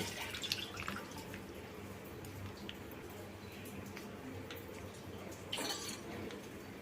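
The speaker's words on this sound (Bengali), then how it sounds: "এখন আমি দেড় প্যাকেট এরকম মানে সাড়ে সাতশো এমএল মতো দুধ আমি এতে দিয়ে জাল দিয়ে নেব" About 750 ml of milk pours into a pot set on a gas stove for makhana kheer, making a faint, steady liquid trickle with light dripping and no voices.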